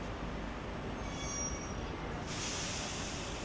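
Hydrogen train pulling in at Jind Junction platform 3, a steady broadband rumble of rolling wagons throughout with faint wheel squeal, brightening into a louder hiss near the end.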